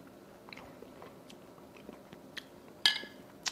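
Rehydrated freeze-dried zucchini slices are bitten and chewed close up, with soft wet mouth sounds and a sharper crunchy bite partway through, quiet and with no talking.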